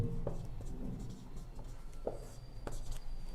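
A pen scratches out a math equation on paper in short, faint strokes, close and alone against a low background hum.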